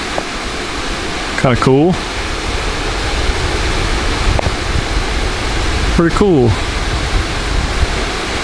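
A waterfall in Shawnee National Forest near Dutchman Lake gives a constant broadband rush of falling water, with a voice speaking briefly over it twice.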